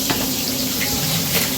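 Food frying in a pan in a home kitchen, a steady close sizzle that runs without pause.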